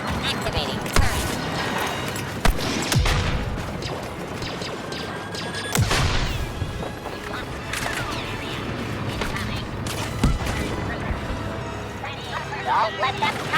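A turret fires in the Star Wars Battlefront II game on Geonosis amid busy battle noise, with repeated blasts and crashing impacts under a robotic voice.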